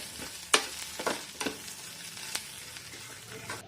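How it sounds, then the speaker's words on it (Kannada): Onion, garlic, dry chillies and tamarind frying in a pan, a soft steady sizzle broken by several sharp spoon scrapes and taps against the pan, close and moderately quiet, no talking. "ಈ ಈರುಳ್ಳಿ ಸ್ವಲ್ಪ ಟ್ರಾನ್ಸ್ಪರೆಂಟ್ ಆಗುವವರೆಗೆ ಚೆನ್ನಾಗಿ ಫ್ರೈ ಮಾಡ್ಕೊಳ್ಬೇಕಾಗ್ತದೆ"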